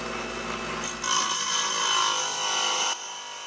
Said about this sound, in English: we're down on the 5-inch trim saw that I like so much. We're gonna plug it in.